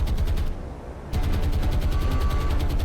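Bombs and anti-aircraft gunfire in the naval game War on the Sea, a dense rapid rattle of automatic fire with a short lull before the barrage resumes, loud and unbroken by speech.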